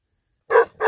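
A guard dog barks from the far side of a fence, one loud bark followed by the start of another after a short silence.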